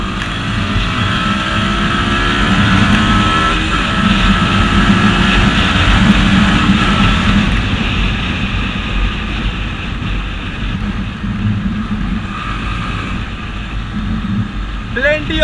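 A Bajaj Pulsar NS160 motorcycle, a 2017 model with a 150cc-class engine, accelerates with a loud, steady engine roar and some wind noise that rise and hold through the run, while a voice talks over it.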